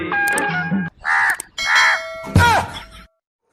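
An Asian koel call sound effect plays in a Hindi comedy sketch: four loud, harsh, wailing bird-like cries in quick succession, each cut off by a brief pause.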